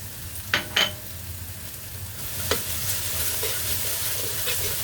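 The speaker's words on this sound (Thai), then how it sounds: "ผัดให้หอมเลยจ้าผัดให้หอมเลยนะคะ" Kimchi and curry paste stir-frying in a pan for kimchi fried rice, a steady close sizzle with a few sharp scrapes of a spatula against the pan and no talking.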